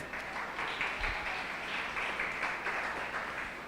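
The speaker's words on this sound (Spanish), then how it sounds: "Un aplauso para Annette." Faint, steady applause from a church congregation honoring Annette, a soft continuous wash of clapping heard from a distance without pause.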